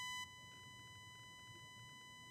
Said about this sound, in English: There's like a beeping.